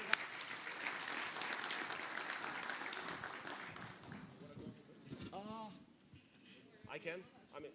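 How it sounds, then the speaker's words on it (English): Conference panel audience on digital transformation giving a round of applause, faint and distant, clapping for about four seconds before fading into quiet talk and a few voices. "a round of applause, please"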